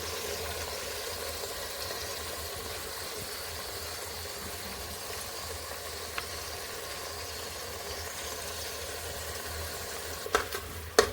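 A paste of chili, garlic and ginger fries in oil in a pan, a steady soft sizzle and hiss that holds level throughout, with a few small clinks near the end.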